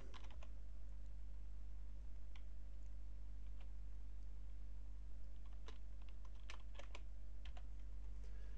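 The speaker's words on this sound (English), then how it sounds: "we'll type in the name for our new pop-up" Typing on a computer keyboard, a steady run of close key clicks in uneven bursts over a constant low electrical hum, with no voices.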